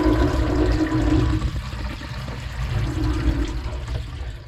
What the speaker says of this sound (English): I'm going to push this down, and you can see how fast that water goes away.